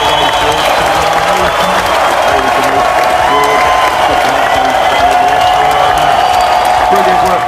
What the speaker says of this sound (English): Big Newton round of applause for George.